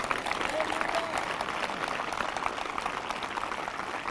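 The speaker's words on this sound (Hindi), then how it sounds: "जो जिंदा हैं वो ताली बजाकर धन्यवाद कर रहे हैं।" A church congregation at a Christian ministry service claps steadily, a dense, even patter of many hands continuing throughout at moderate loudness with no clear pauses.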